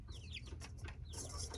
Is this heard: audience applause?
no